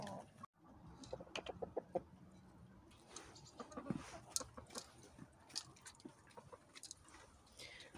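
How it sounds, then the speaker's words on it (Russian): A young rooster clucks and makes short broken calls among other chickens, close and fairly quiet, in irregular bursts with small ticking and rustling sounds between them. "Вот, этот петушок"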